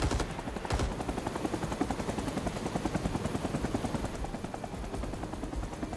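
A UH-1 Huey helicopter in Rising Storm 2: Vietnam, its rotor thumping steadily and loudly nearby throughout, with gunfire mixed into the rumble.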